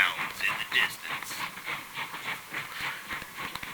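A steam train chugs in an audio drama at sunset in the mountains, rhythmic hissing puffs and clickety-clack pulsing steadily at moderate volume, with a narrator's voice over it.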